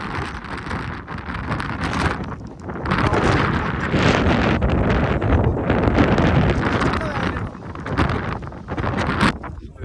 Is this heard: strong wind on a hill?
yes